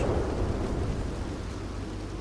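Steady rain with a low thunder rumble in the Red Dead Redemption game world, a dense, even wash of rainfall under deep, continuous rolling.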